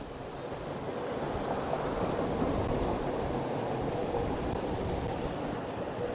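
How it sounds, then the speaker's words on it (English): Water flowing out of a rock in a riverside park in San Angelo, Texas, a steady, even rushing wash heard alone that holds at constant strength throughout. "check this water out that's coming out of this rock."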